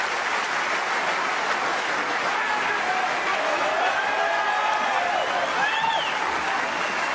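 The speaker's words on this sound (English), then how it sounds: "Peter Ebdon applauding Ronnie" Sustained applause from a snooker crowd at the end of a frame, a steady dense patter of clapping that fills the whole stretch without pause, with faint commentary-like voices murmuring underneath.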